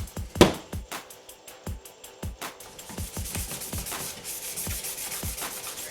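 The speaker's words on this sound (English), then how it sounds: "Now you want to get your 600 grit sandpaper." Headlight plastic being hand-sanded with 600 grit sandpaper before primer, a rhythmic scratchy rubbing of quick back-and-forth strokes, close and steady, speeding up after a couple of initial strokes, with no voices.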